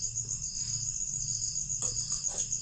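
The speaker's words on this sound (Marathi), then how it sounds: "इथं रात्रीच्या टायमाला रातकिड्यांचं संगीत चालू असतं." Crickets chirp at night in a rural Maharashtra setting, a continuous high, shrill trill holding steady throughout, with faint low background hum and a couple of soft knocks.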